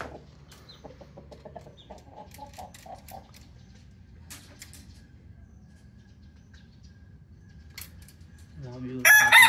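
Rooster and young four-month-old chickens outdoors, soft clucking and chirps over a steady low hum, with a loud rooster crow bursting in close at the end.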